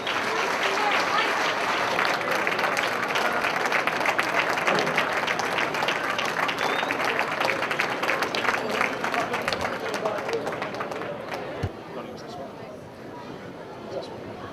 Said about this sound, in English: would you please give a big round of applause to Mr.